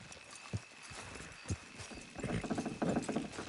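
Horses' hooves clip-clop in a video game as the animals pull, starting as a few separate thumps and building into steady, fairly loud rapid hoofbeats over the last second and a half.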